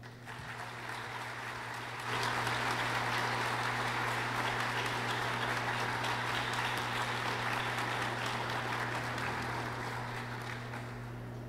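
Steady, dense applause from a large audience at the official opening of a literary festival in Brazil, sweeping in after about two seconds of background hum and holding level to the end, with low steady hum running underneath.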